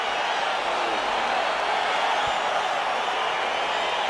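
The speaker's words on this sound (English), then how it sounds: "crowd getting excited as this fight gets underway" A UFC arena crowd roars steadily as the Jiri Prochazka vs Jon Jones fight begins, a dense and continuous wash of cheering with no distinct breaks.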